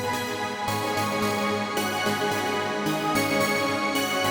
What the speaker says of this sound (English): A delay reverb type of sound